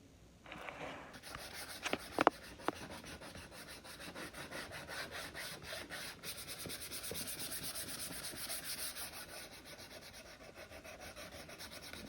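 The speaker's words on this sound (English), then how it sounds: "Sanding your board will allow you to distress the edges of your board." Steady, continuous scratchy rubbing of sandpaper on wood, close up, with a few sharper scrapes early on and no talking.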